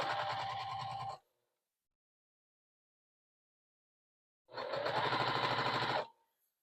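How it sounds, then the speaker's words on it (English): A sewing machine stitches a quilted wall hanging in two steady, close bursts of fast mechanical running, separated by a few seconds of silence. "just start sewing down the other side"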